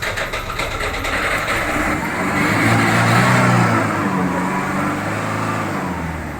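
A single-owner Ford Figo with 51,000 km, a flashing check engine light and low pickup runs close by with a rough, steady engine drone that swells briefly midway, then settles.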